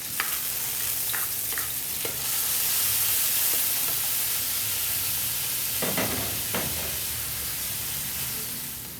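Garlic sautéing in hot oil in a pan for Filipino menudo, a steady close sizzle with bursts of stirring scrapes and clatter, loud and continuous with no talking.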